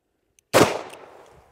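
A Taurus Executive Grade 865 revolver fires once at soda cans, a single sharp, loud near report with a fading tail.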